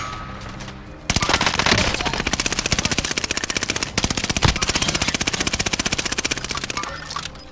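In a tactical shooter video game, rapid machine gun fire keeps up a loud, steady rattle of dense bursts, with only short pauses between them.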